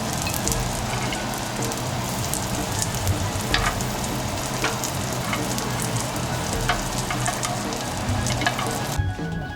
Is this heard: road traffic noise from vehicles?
no